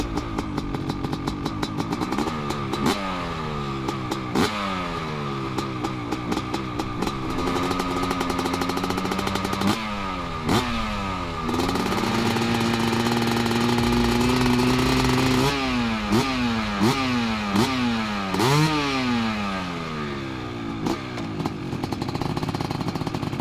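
A vintage 500cc two-stroke motorcycle engine fires up and is revved repeatedly. Its rising and falling blips are loud, close and buzzing, with a sharp crackle, and no one speaks.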